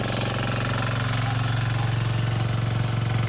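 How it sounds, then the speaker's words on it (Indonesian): A portable gasoline water pump runs steadily nearby, a loud continuous engine drone with a rapid pulsing rattle throughout and no talk. "air bersih dari belakang ke depan pakai alkon, karena mesin lampu mati makanya pakai alkon."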